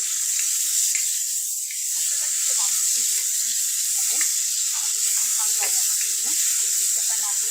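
Cardamom and cinnamon sauté in hot oil in a pan, giving a constant bright hiss with small scraping stirs underneath and a voice speaking over it.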